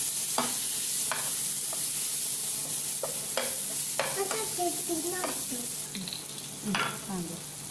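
A spoon stirs tomato into frying potato chilli in a pan, scraping and clinking in irregular strokes over a steady soft sizzle, with no one speaking.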